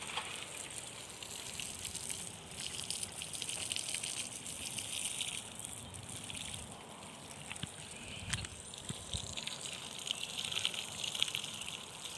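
Running water washes over the roots of a bougainvillea bonsai, a steady rushing gush that stays fairly even for about twelve seconds with no voices.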